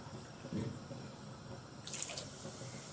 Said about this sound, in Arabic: هنا خلاص حطيت الميه اهي بالشكل ده